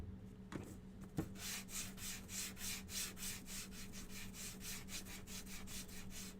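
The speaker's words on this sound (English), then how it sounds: "Probably should use a different piece of sandpaper." Sandpaper rubbing a small wooden stand from a bear-and-hive craft kit, a steady rhythmic scratchy back-and-forth of about two strokes per second, close and quiet, after a couple of light knocks at the start.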